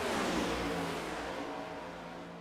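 Race cars roar as a pack at Talladega, a dense, sustained engine drone at moderate distance that fades slightly toward the end.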